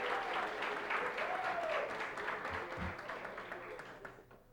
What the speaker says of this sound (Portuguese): E uma salva de palmas especial